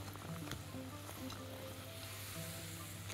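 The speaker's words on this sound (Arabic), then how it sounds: "وننزل الكريمة، نقلب بقى كويس جدا" Cream being stirred into melting caramel in a pan for chocolate-caramel cups, giving a steady close sizzle with scraping stir sounds throughout and a low constant hum underneath.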